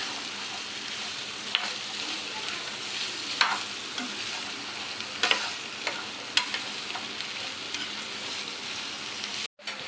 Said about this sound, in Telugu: ఇలా ఎండుమిర్చి కొంచెం కలర్ చేంజ్ అయ్యాక తర్వాత పచ్చి కొబ్బరి వేసుకొని ఫ్రై చేసుకోవాలండి.